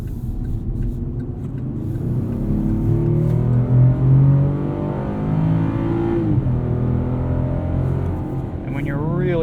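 A 2021 Chevrolet Colorado ZR2 pickup engine pulls steadily from inside the cab, its drone rising with subtle dips as gears shift, loud and continuous, with a voice talking over it.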